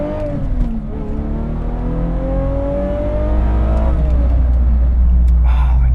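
An Aston Martin DB7 Vantage V12 with a six-speed manual revs hard while driving, its smooth engine note climbing steadily in pitch from inside the cabin, loud and continuous, with a brief gear-change dip near the end.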